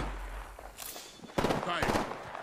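Gunfire in the shooter game Apex Legends, with a burst of rapid shots breaking in partway through over game ambience and a voice talking.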